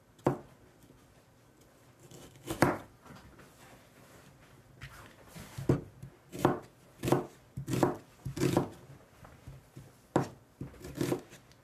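A knife chops onions into wedges on a cutting board for a vegetable soup, with close, crisp cuts that come in loose bursts and then a quicker, steady rhythm.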